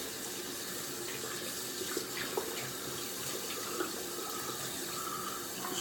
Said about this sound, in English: Just gonna rinse out the brush.